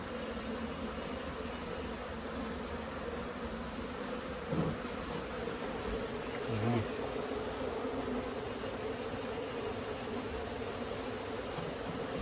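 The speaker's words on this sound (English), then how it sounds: "Very strong colony, lots of bees." Dense, steady buzzing of a strong honey bee colony close by in a shed, a continuous droning hum with a couple of brief louder bumps, no voices.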